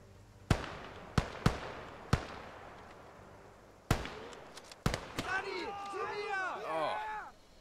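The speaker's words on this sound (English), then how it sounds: "Goddamn mortar." Mortar rounds explode in the World War II trench battle game Call To Arms Gates Of Hell, giving about six sharp, close blasts at irregular intervals, each fading into a short rumble, followed by a flurry of smaller impacts and debris noise.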